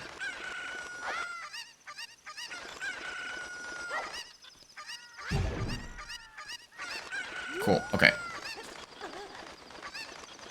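Chickens cluck and squawk in a Zelda Ocarina of Time and Majora's Mask randomizer game, repeated loud bursts of fowl calls over game sound effects, with a player speaking briefly.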